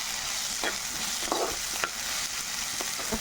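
Ginger garlic paste frying in a pan for okra tamarind stew gives a steady, close sizzle. A spoon stirs and scrapes it every so often, with no voices.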